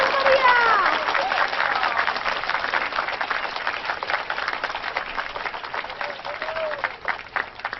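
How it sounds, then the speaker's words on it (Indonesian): A crowd claps warmly and steadily for several seconds, a dense, even patter, while a couple of faint voices rise briefly above it. "mari kita sambut dengan tepuk tangan yang meriah"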